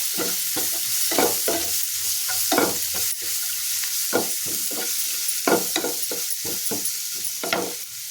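Garlic frying in a pan for burnt brinjal chutney, with steady sizzling and repeated stirring scrapes at an irregular rhythm, close and moderately loud, no voices.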